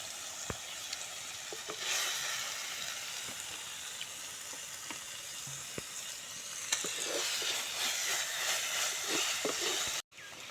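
Gooseberry pickle simmers in oil, giving a steady close frying sizzle with soft stirring scrapes and occasional ticks, moderately quiet and without talking, ending in a brief cutoff.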